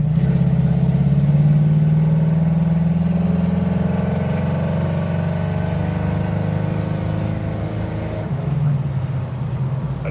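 Ford Mustang engine on a test drive, a steady mid-pitched drone of a car accelerating under partial throttle, loud and continuous for the whole stretch with a slight drop near the end.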